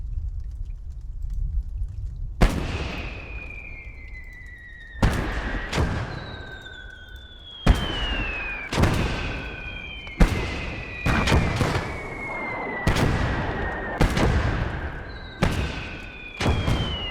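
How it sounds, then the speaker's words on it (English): Soviet mortar fire in Gates of Hell: Ostfront, with loud blasts striking one after another at irregular intervals, each sharp crack trailed by a falling whistle and rumbling decay. "I didn't see that the Soviets had mortars set up there"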